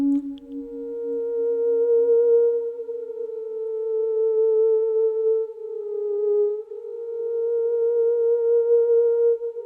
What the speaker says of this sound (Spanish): Y este instrumento, que no es un teremín, pero que nos va a evocar a ese sonido, se llama las ondas Martenot y suena así